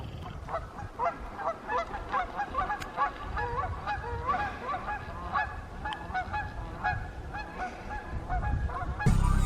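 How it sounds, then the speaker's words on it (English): Many geese honk continuously in a noisy flock by a lakeside, calls overlapping at close to moderate distance, with steady low background rumble throughout. "Check out these geese"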